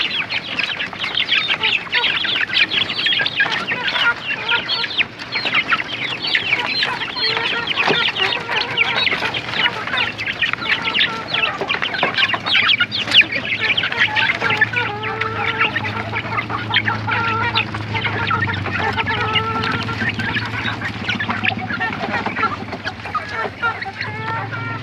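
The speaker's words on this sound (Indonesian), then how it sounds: "Ini ayam pada menikmati makan sorenya." A flock of chickens clucking and chattering continuously nearby while eating their afternoon feed, with scattered pecking and scratching sounds throughout.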